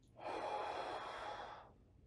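A long, deep breath pushed out over about a second and a half during a guided hand and finger stretching routine, airy and close, with no talking over it.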